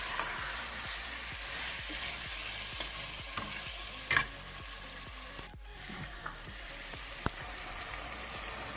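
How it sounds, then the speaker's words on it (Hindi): Potatoes and peas dry-frying in a pan with no water, a dense continuous sizzle with rapid rhythmic scraping of a spatula and occasional louder knocks, close up and unaccompanied by speech. "अभी हम इसकी 3 से 4 मिनट तक बुनाई करती हैं।"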